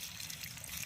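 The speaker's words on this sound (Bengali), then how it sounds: "এবার গাছের গোড়ায় জল দিয়ে দেওয়া হচ্ছে" Water poured onto the soil at the base of newly planted trees, a steady soft trickle and gush running through the whole moment at moderate, even loudness with no talking.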